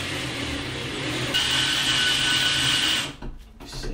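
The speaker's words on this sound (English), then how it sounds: "I'm going to take this 90 degree, put it on the end, and use my drill" Power drill fitted with a 90-degree right-angle attachment bores through a wooden wall stud, a steady close whine that rises in pitch partway through and then cuts off, with brief bursts of drilling at the end.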